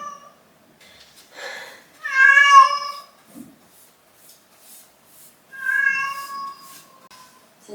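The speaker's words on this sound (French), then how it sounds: "C'est ça, va miauler dans la chambre." An indoor house cat meows near a landing door, with two loud drawn-out meows separated by quieter pauses and faint small noises between them.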